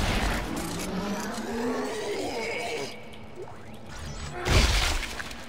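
Stomping and breaking crates in Dead Space 3, with a crunching shatter early on, some lighter debris sounds, and a second heavy stomp-and-crash burst near the end over a steady game ambience.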